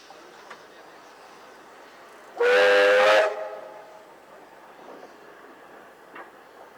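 The whistle of steam locomotive 5367, built by Clyde Engineering in 1914, blows once as it leaves the Junee depot, loud and tonal, for under a second, over a low hum of distant rail noise.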